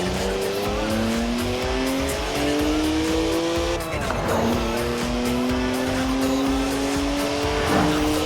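Car tires squeal loudly and continuously in a burnout in the Forza Horizon 4 video game, a BMW's engine droning steadily underneath with a brief dip in pitch partway through, close and dense throughout.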